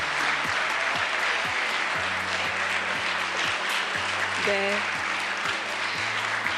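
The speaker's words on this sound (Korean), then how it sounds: "많은 분들께서 아마 감동 어린 박수를 보내주시고 계신 것 같은데요" An audience at a national policy report event applauds, a steady even wash of clapping with low sustained music tones running underneath throughout.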